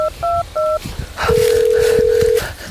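A phone being dialed: three short paired keypad tones followed by one long steady ringback tone, loud and clear, with faint background noise.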